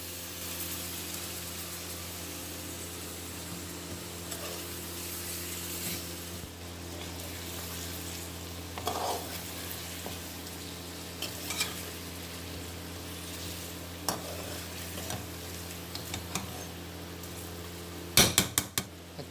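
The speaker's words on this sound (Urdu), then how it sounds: "اس کو اچھی طرح سے مکس کر کے مرغی ڈالیں گے۔" Chicken sizzling steadily in a pot with salt and chili while cooking chicken with bitter melon, under a constant frying hiss with occasional spoon scrapes and clinks against the metal, and sharper clatter near the end.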